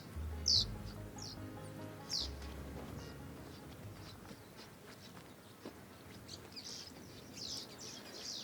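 Birds call from around a bird hide by water in the dunes of Sturt National Park, with a few distinct chirps near the start and more scattered calls later over steady insect hum and faint outdoor background.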